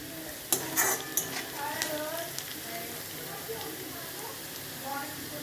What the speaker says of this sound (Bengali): একদম মজমজ করে আলুটা ভেজে নেবে।